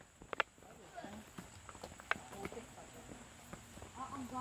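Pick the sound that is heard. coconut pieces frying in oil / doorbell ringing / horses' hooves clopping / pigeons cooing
horses' hooves clopping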